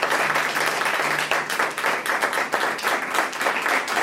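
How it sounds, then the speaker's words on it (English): An audience applauds a speaker at a community talk, a dense, steady wash of many hands clapping close by that holds at an even level for several seconds. "It's always fun when people are clapping for you."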